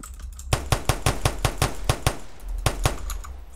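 A gun fires in a Roblox game gun system, a rapid burst of about a dozen sharp, evenly spaced shots followed by a couple of slower shots, loud and close.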